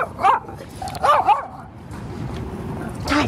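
Small dogs bark and yip in short bursts close by outdoors, with faint whimpering between the barks and no speech.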